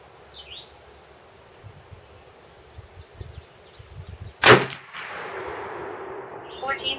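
A single sharp crack comes from a .270 Winchester rifle firing a cast bullet outdoors, loud and near, with a trailing echo afterward; faint bird calls and quiet rustling are heard before the shot.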